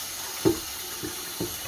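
Water runs steadily from a sink faucet, with a few soft splashes and sloshes against the basin, close and fairly quiet, with no talking.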